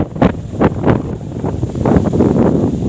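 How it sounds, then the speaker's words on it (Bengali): Strong wind gusts through tree leaves under a cloudy sky before rain in Bangladesh, coming in loud buffeting bursts of rustle and microphone rumble that rise and fall unevenly. "খুব বেশি বাতাস হচ্ছে আমাদের"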